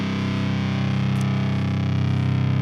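A heavily distorted electric guitar plays through a modern metal amp model on a Line 6 Pod Go, holding a loud sustained chord that rings on steadily with no talking.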